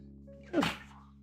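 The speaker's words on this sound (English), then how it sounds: "Oh, I'm gonna sneeze." A single short sneeze bursts out over a faint steady electrical hum in a quiet room, brief and fairly close.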